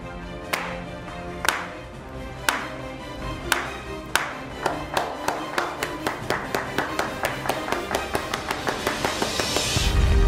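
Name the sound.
crowd slow clapping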